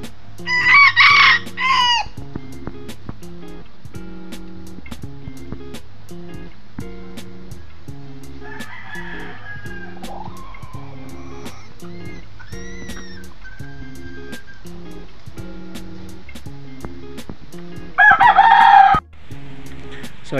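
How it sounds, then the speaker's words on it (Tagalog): Gamecocks kept for cockfighting crow loudly twice, at the start and near the end, with soft clucking and a steady rhythmic background hum in between. "so ayan po yung mga manok namin mga kasabong"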